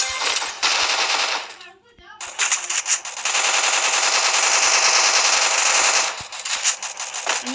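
Rapid automatic gunfire in a battle royale shooter, long loud bursts broken by a short pause, with scattered single shots near the end and no talking.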